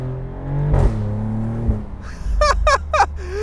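A 2025 Maserati GranCabrio Trofeo in Corsa mode revs through a deep engine tone, then snaps into an upshift marked by a quick double crack of backfire, followed by sharp rapid pops and crackles close by.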